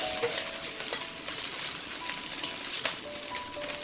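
Prawns fry in a pan while being stir-fried with vegetables, giving a steady, close crackling sizzle with scattered pops and no talking.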